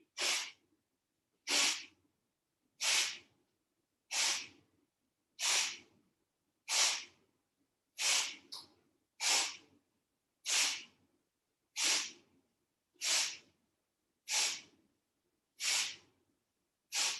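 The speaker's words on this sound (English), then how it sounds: "at the same time we are going to exhale out forcefully" Forceful nasal exhalations during a yoga breathing exercise, about fourteen sharp hissing bursts at an even rhythm roughly every second and a quarter, close and clear with silence between.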